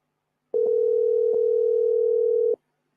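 Telephone dial tone during a callback on a sports call-in show, a steady single-pitch hum lasting about two seconds, loud and clean with a slight click at the start and end.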